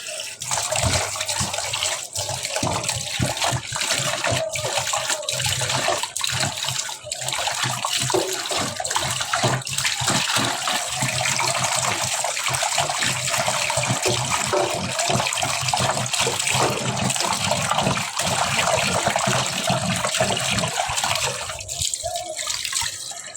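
Water runs steadily from a tap while freshly cut fish from the market is washed at a sink, a continuous splashing rush with small shifts as the fish is moved under the stream.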